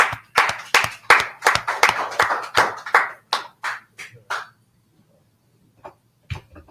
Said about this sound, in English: clap it up for the trooper